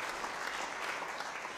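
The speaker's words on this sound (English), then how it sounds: "So quick round of applause for our troop here." Diners give a round of applause in a restaurant, a dense, steady burst of many hands clapping that holds at full level for the whole moment.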